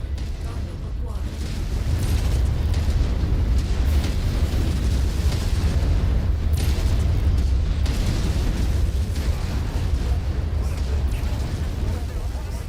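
Loud, continuous explosions and heavy weapon booms roll through a mech battle in MechWarrior 5, a dense barrage with no letup that fills the whole stretch.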